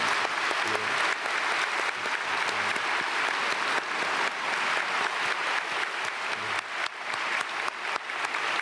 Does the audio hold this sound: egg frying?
no